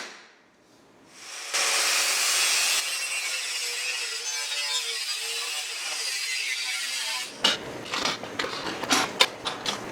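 Power tool trimming a metal armour plate for a Hayabusa motorcycle in a garage workshop: a steady loud broadband cutting hiss for several seconds, then a series of sharper irregular scraping and clanking bursts near the end.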